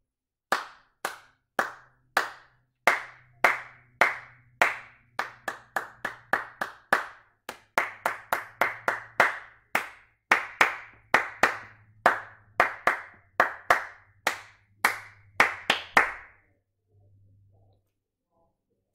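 Hand clapping in a call-and-response clap-back game, with one player clapping short rhythmic patterns and a group answering them. Sharp, evenly paced claps come in quick bursts over about sixteen seconds and then stop, with no talking.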